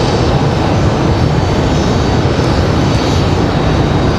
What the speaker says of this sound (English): There we go, American 2683 from Dallas, making that now right-hand turn to come on to final out there